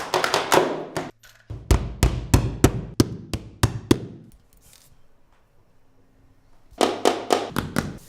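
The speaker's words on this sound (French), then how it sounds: "tu peux clouer les plinthes au mur" Close, loud hammer blows drive nails into baseboards along a wall while a PVC floor is fitted, a fast run of sharp strikes, then a pause of near quiet, then another quick burst.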